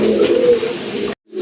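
Pakistani high flyer pigeons coo in a low, close, continuous rolling murmur, cut by a brief silence near the end before the cooing resumes.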